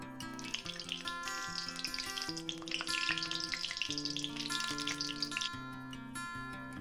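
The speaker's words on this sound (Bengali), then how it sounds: "ফোড়নে তেজপাতা, শুকনো লঙ্কা আর সাথে গোটা জিরে দিয়ে দিলাম।" Bay leaf, dried red chili and whole cumin seeds sizzle in hot oil, a steady crackling hiss running beneath continuous background music.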